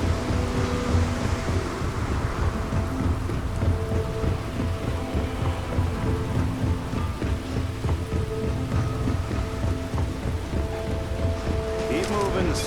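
A lightning storm on a planet in the Starfield video game, with steady heavy rain pattering over low rumbling thunder and a dense continuous storm wash, while a voice speaks faintly beneath it.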